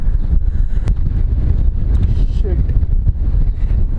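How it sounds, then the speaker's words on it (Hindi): Strong wind blowing outdoors, buffeting the microphone as a loud, continuous low rumble with gusty fluctuations and no pauses. "बहुत तेज हवा चल रही है"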